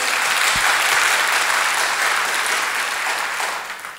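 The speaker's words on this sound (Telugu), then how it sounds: "ఆ చప్పట్లు దేవునికే చెల్లును గాక" Sustained applause from a church audience at a Telugu Christian sermon, a dense steady clapping that fills the space throughout and fades slightly toward the end.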